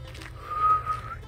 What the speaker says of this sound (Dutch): Oh, ik kan niet fluiten vandaag.